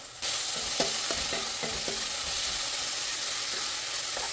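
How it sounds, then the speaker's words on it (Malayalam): Garlic, ginger and green chilli sautéing in a pan for a Kerala prawn biryani, a steady close sizzle with a few sharp scrapes and knocks of a spoon stirring through the first two seconds, then a continuous even hiss. "വെളുത്തുള്ളി ഇഞ്ചി പച്ചമുളക് ഇട്ട് കൊടുത്ത് ഇതിൻ്റെ പച്ചമണം മാറുന്നിടം വരെ നമുക്ക് നന്നായിട്ടൊന്ന് വഴറ്റി കൊടുക്കാം"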